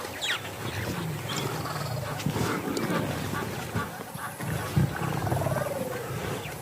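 Lions roaring in the African wild near a river during a dry season, a rough low roar amid outdoor ambience, fairly close and steady with a few louder bursts.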